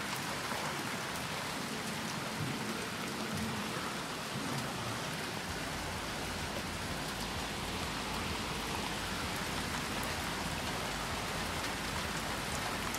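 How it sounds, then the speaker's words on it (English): Hail pelting down during a June hailstorm in Cornwall, Ontario, Canada: a dense, unbroken roar of pellets striking surfaces, loud and constant for the whole stretch, with no voices. "Hail. Wow, that was a lot."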